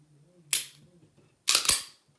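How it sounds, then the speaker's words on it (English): A pistol's trigger is dry fired, giving two sharp, close mechanical snaps about a second apart, the second longer and rattlier, over quiet room tone. "Dry fire."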